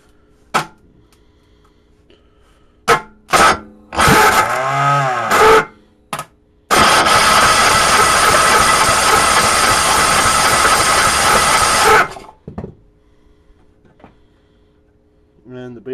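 A cold engine without a muffler barks into life in short bursts, then runs loud and raw for about five seconds before cutting out, with a few brief knocks and clanks around it.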